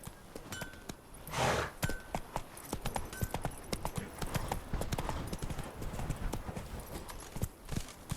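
Horse hooves clip-clop in The Witcher 3 video game, a quiet, steady rhythm of hoof strikes with faint jingling tack as the horse trots along.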